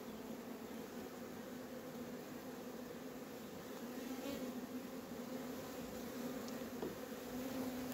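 Honey bees buzzing around a hive in an apiary make a steady, moderately faint drone with a low hum underneath, continuous throughout with slight swells.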